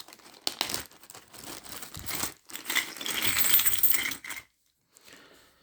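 Coins pour out of a pouch in a rattling cascade of metallic clinks mixed with crinkling fabric, building to a busy jangle before abruptly going quiet.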